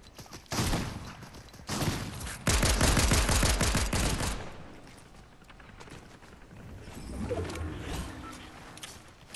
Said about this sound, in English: other people are shooting at him